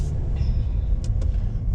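Cars roll past on a one-way street in a small town, a steady low rumble of traffic with a couple of brief higher hissing swells as vehicles go by.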